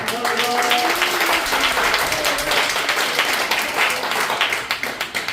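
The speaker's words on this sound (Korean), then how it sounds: "우리 인사하실 때 크게 박수로 환영해 주시기 바랍니다." A church congregation at an afternoon prayer meeting applauds a welcome, with steady, dense clapping that fills the room for several seconds and some voices or music faintly underneath.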